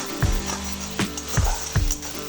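Ground masala paste with turmeric and sugar cooked in a pan, a steady sizzle broken by four or five distinct knocks and scrapes of a spoon against the pan, close and fairly loud, with no talking.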